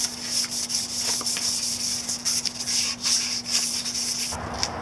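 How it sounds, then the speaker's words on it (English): Fine 1000-grit sandpaper rubbed over a painted Yamaha Virago 250 motorcycle handlebar, a steady close scratchy rasp with quick repeated strokes under a constant low hum. "I've got some sandpaper here. It's 1000 grit, and I'm just going to go over this and try to make it a little bit more smooth."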